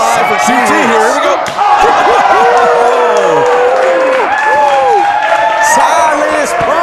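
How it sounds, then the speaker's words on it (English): A pro wrestling crowd, seated low and up on a balcony, roars and cheers loudly and without a break. Shouts and whoops rise and fall throughout, with voices talking over the din. "The crowd in the seats down low and the crowd up on the balcony just ate that up."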